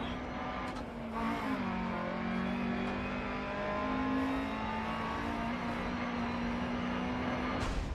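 A Lancia Fulvia HF rally car in the Dirt Rally video game holds a steady, droning engine note at high revs. The pitch wavers slightly as it runs close to the shift point, continuous and moderately loud throughout.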